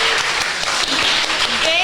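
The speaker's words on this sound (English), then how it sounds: "Another round of applause, please, for Christy and Danielle." Applause from an audience at a live show, a dense steady patter of clapping filling the room, with voices talking over it.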